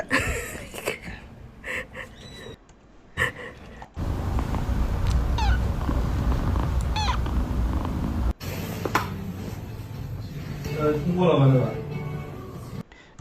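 A cat lets out drawn-out meows with raspy, purring breaths between them, up close, amid other background noise.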